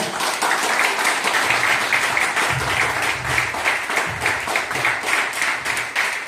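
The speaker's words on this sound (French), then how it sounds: "Leader, voici Didier, sous vos applaudissements." Lively applause from the audience at a Longrich conference in Côte d'Ivoire, close and loud, with rhythmic clapping that keeps an even pulse throughout and a few voices faintly mixed in.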